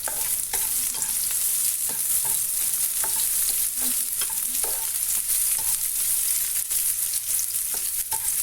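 Onion sautéing in a pan with garlic for a creamy salmon pasta, steady loud sizzle of frying with regular scraping stirs of a utensil against the pan throughout.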